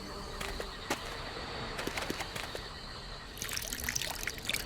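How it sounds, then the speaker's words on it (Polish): Water from a bucket trickles and splashes onto dry earth in a video game, a soft steady dribble with a few brief splashes and a brighter burst of sloshing near the end. "mam wiadro wody, więc spróbuję podlać suchą ziemię"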